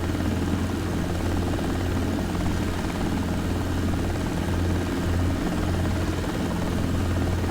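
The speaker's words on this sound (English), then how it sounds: "slow down nice and gently and bring the helicopter to a hover" A simulated helicopter in a desktop flight simulator hovers, droning steadily throughout, a constant low rotor thrum and engine whine with no pauses or changes in intensity.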